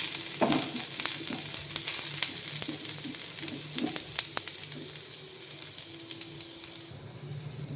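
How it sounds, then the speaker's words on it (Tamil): Beetroot sautéing in oil in a kadai, a steady close sizzle with scattered clicks and scrapes of stirring, moderately loud throughout with no talking. "கடாயில் கொஞ்சம் எண்ணெய் ஊற்றிட்டு இந்த பீட்ரூட்டை போட்டு வதக்கணும்"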